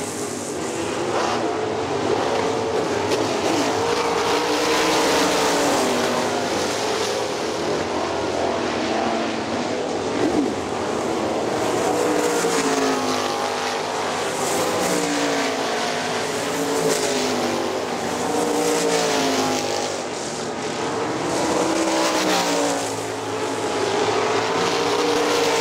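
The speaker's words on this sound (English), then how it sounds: "Dustin Daggett way up high out of turn four. Four laps complete, four to go." Sprint cars race on the dirt oval at Hartford Speedway Park late in a feature, a loud, continuous engine roar that swells and fades as the pack passes close by, with no talk over it.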